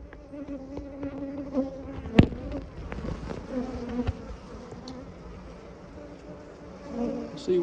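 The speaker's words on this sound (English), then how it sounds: "And there's clearly a lot of bees up here." Honey bees buzz continuously around an opened hive during an inspection, a dense, close, steady drone with a few sharp knocks or taps from the hive box.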